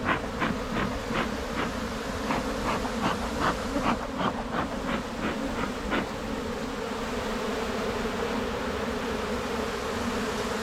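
Honey bees hum in a hive being smoked during inspection of a cell builder colony, a close, steady buzzing with regular rhythmic pulses through the first six seconds, then a smoother drone.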